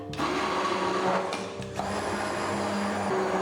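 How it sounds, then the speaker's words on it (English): An immersion blender whirs steadily through leek and potato soup thinned with hot water, a loud, continuous motor drone with a brief dip in pitch and level midway before resuming at full strength. "Blend that in with the Immersion blender."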